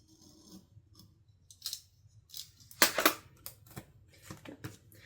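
Scissors snip a small piece off paper while planning a weekly planner spread: a few quiet close snips and rustles, then a louder cluster of crisp cuts with brief gaps of near silence.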